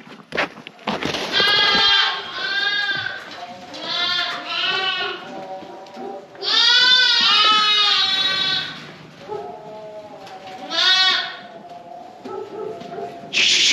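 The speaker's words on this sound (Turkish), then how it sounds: "Benim kuzularıma bakın, kuzularına." Lambs on a farm bleat loudly and close by in repeated bursts, several calls overlapping, with quieter pauses and softer bleats between them.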